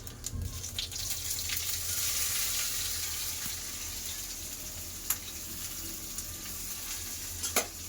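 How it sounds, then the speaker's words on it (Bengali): Dried red chillies, panch phoron and chopped onion frying in a pan for dal tempering, heard as a steady close sizzle with occasional sharp clacks of a stirring spoon and a low hum beneath, no one speaking. "ভালো করে ভেজে নেব"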